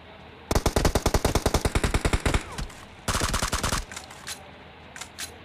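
Loud automatic gunfire from the video game PUBG comes in one long rapid burst, a brief pause, then a second shorter burst, followed by a few faint clicks.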